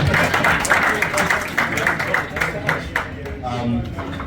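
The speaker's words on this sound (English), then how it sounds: "give you guys a round of applause before we start" Guests at a football club presentation dinner for Melbourne Oromo United FC clap in a dense, continuous burst that fills the room throughout, with voices mixed in.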